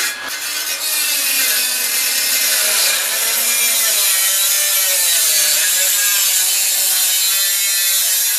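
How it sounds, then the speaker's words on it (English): Sheet metal patch panel for a Chevy Astro/GMC Safari radiator core support being cut with a tool, a steady, continuous rasping cut running loud and close for the whole stretch with no talking. "Now just cut the patch panel out."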